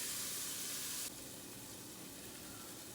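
Onions sweat and sauté in a pan, giving a steady broadband sizzle that is loud at first, then drops to a softer continuous fizz after about a second, with no talk.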